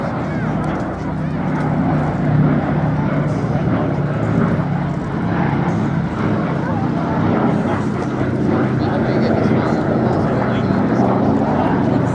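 The four-engine B-17 Flying Fortress bomber 'Sally B' flies past at an airshow, its piston propeller engines making a loud, steady droning roar throughout while a commentator talks over it.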